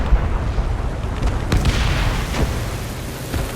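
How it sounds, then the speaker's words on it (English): A bomb explodes in a war video game, a loud heavy boom over a dense rumbling battle din that fills the whole stretch. "That should be the bomb."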